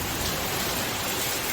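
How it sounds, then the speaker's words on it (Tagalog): Heavy rain pours down steadily during Super Typhoon Carina, a dense, even roar of drops with no break and no voices. "Malakas ng ulan."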